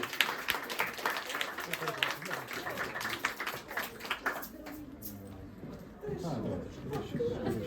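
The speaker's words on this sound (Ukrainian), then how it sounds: "Сергій Савченко, під ваші оплески." A live comedy audience in Kyiv gives sustained applause as the comedian Serhii Savchenko comes on stage. Dense, steady clapping fills most of the stretch and eases off toward the end, with voices mixing in.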